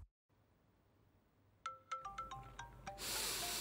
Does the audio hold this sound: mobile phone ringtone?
yes